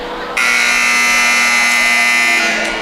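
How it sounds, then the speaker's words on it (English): A loud, harsh electronic buzzer blares steadily for over two seconds at a high school basketball game, a sustained single tone cutting in abruptly, nearby and dominant. "As you can tell by the buzzer, we are go time on Preston."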